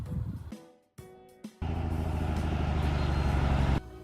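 A truck rumbles loud and steady at close range for a couple of seconds, its low engine drone holding even before cutting off, with a few short bursts of mechanical noise and gaps of quiet just ahead of it.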